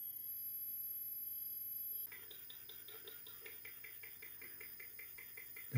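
Ultrasonic emission from a 52-year-old computer made audible through a tuned bat detector: a faint steady whine that shifts at the retune into a quiet, rapidly pulsing chirp pattern, with no talking.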